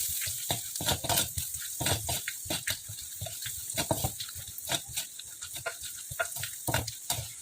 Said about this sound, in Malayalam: ഈ സവാള ഒന്ന് മൊരിഞ്ഞ് വരട്ടെ